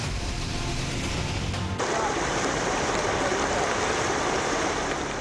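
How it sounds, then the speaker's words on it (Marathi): Floodwater rushing like a river through the Andheri subway in Mumbai during heavy rain, a loud continuous churning roar with faint traffic rumble beneath. "अंधेरी सबवेमधून एखाद्या नदीप्रमाणे पाणी वाहतंय।"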